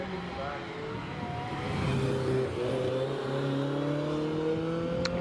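A Ferrari 308 GTB with a 3-litre rear-mounted V8 climbing a hillclimb course, its engine note rising and shifting through gears at a moderate distance, sustained and steady over several seconds.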